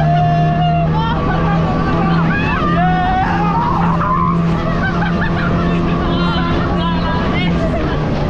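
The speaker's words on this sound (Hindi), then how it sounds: "हम लोग भाई समुंदर में गाड़ी चला रहे हैं" A car drives through shallow sea water on a crowded beach at Digha; engine and splashing wash run steadily under loud crowd chatter and voices throughout.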